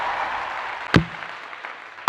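A couple of sharp, isolated hand claps snap out close to the microphone, one near the middle and another right at the end, over a faint low background hum.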